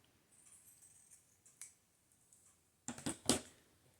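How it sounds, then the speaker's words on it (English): A paper ephemera piece for decorating a tag is cut in half with scissors: faint rustling of paper, then two or three crisp, close snips near the end in an otherwise quiet room. "Let's cut this in half."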